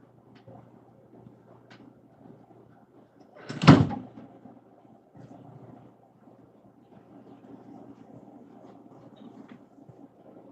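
A single loud thud of a door closing, near and sharp, set against a quiet room hum with faint shuffling afterward.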